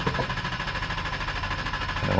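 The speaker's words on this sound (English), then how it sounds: "full brake, full gas, and start." A Jeep engine just after an oil change runs with a steady, loud pulsing drone, its firing rhythm repeating evenly throughout and rising slightly at the end.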